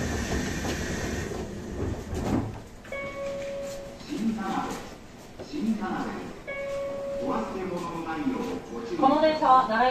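Kintetsu 20 series express train with a Mitsubishi hybrid SiC-VVVF drive, running between Kyoto and Nara: whining motor tones stepping in pitch and wheel noise from inside the car, under onboard announcements.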